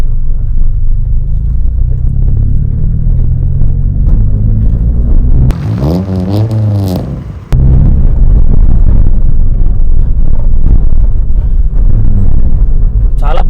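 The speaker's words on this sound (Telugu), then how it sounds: "సో మనకు ఎగ్జాస్ట్ అయితే మస్తు లౌడ్ వస్తుంది బయట కూడా." Modified stage 2 tuned Mitsubishi Lancer with a loud exhaust, a heavy deep rumble droning steadily and close, briefly interrupted by a tonal whine before the rumble returns at full strength.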